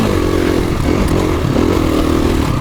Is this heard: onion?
no